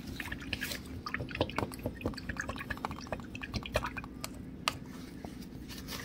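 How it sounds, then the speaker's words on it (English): A paintbrush rinsed in a small water pot while painting a miniature, giving quiet close-up clinks, taps and drips against the pot in an irregular run. "let me just wash off my brush real quick."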